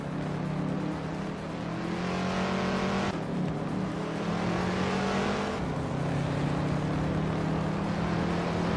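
A 1969 Chevrolet Camaro ZL1 engine in a racing video game drones steadily and loud. Its pitch climbs through the gears, with two clear shift drops along the way, while other race cars blend into the continuous roar.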